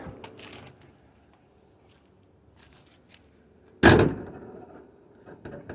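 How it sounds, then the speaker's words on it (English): A car hood drops shut with one loud, sharp slam midway, after quiet shuffling and light handling noises; a few soft clicks follow. "shut the door, shut the hood, see if it latches"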